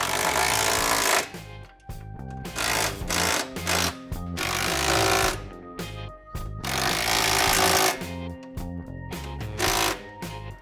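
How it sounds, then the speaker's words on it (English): Power tool work while 9/16 bolts are tightened on a Toyota Tacoma's overland side bars, with loud, repeated bursts of ratcheting and rattling in clusters and brief gaps between them. "it's gonna be a 9/16 bolt. We'll go ahead and start tightening those up."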